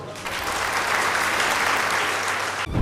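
Audience applause at a Women's Day debate event in Tharapuram, a loud, dense wash of clapping from a large crowd that holds constant before cutting off abruptly.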